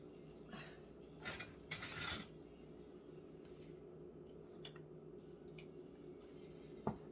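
Spoon scrapes and clinks against a can and measuring cup as Libby's canned pumpkin puree is scooped out. There are a couple of louder scraping bursts early on, then quiet handling and a sharp clink near the end.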